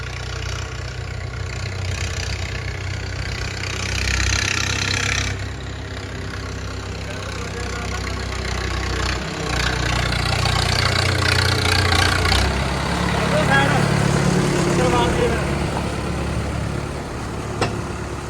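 A tractor engine runs steadily, a low rumbling drone that rises and falls slightly, loud and close, with no voices.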